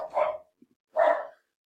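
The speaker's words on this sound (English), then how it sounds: "Sorry about my dog. He's probably going to bark." A dog barks twice, close and fairly loud, with a short quiet gap and a faint little sound between the two barks.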